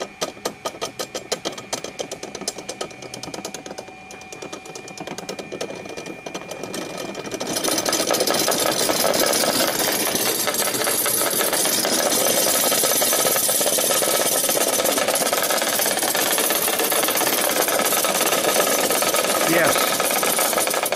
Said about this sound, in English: Three phase variable frequency device.